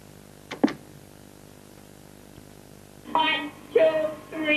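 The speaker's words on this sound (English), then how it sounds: "They also tried to teach dolphins human language, and that sounds like this." Dolphin vocalising in an attempt at human language during a research experiment, heard as a few sharp clicks early on and then three bursts of harmonic, voice-like squawking tones toward the end.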